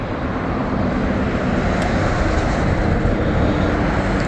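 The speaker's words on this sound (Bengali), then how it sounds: "আমার ড্রোনটা টেক আপ করে এখন উপরে উঠে গেছে।" A drone flies overhead just after takeoff, near a hillside temple in China, its steady droning engine noise filling the air continuously at a fairly loud, unbroken level with no voices.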